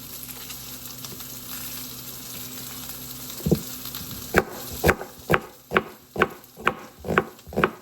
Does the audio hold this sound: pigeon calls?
no